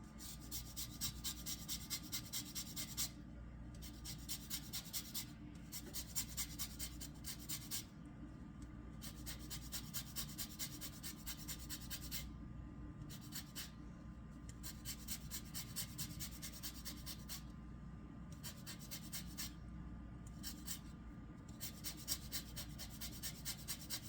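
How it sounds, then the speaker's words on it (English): Lemon peel rubbed against a grater for zest, a steady scraping rasp in long repeated strokes with brief pauses between them, close and quiet. "I'm going to finish grating this lemon peeling."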